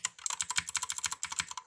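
Rapid typing on a friend's mechanical keyboard, close and crisp, with dense irregular clacks running steadily throughout and no talking.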